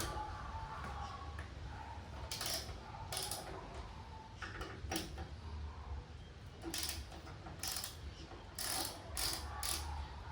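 A ratchet working loose the fender screws on a Harley Davidson Fat Bob 114, sounding in several bursts of rapid clicking pawl ticks over steady background hum, with short pauses between strokes.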